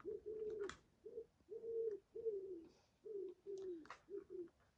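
Turtle doves coo in a steady repeating series of soft, low calls, each phrase a few hoots with short pauses between, fairly close and clear over a quiet background, with a couple of faint higher chirps mixed in.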